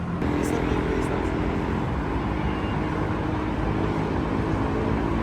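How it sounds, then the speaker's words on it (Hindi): Road traffic streams beneath the Tabiat pedestrian bridge in Tehran, a steady loud rumble of passing vehicles heard from above, with someone talking over it throughout. "यहाँ नीचे ट्रैफिक गुजर रही है"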